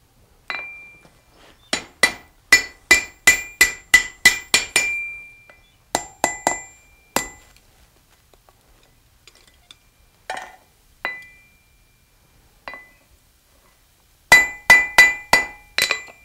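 A blacksmith's hammer strikes an oblong chain link on an anvil in bright, ringing bursts of rapid blows, pausing between runs, with scattered lighter taps in the gaps and a final fast series near the end, loud and close with no talk.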